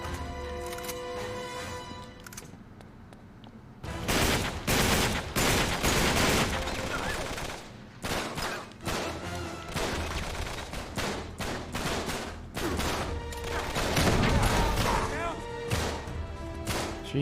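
Enemy gunfire in Uncharted 3: Drake's Deception, a dense burst of rapid shots and automatic fire breaking out after a quieter opening and then continuing in clustered volleys, fairly close, with a voice talking over it.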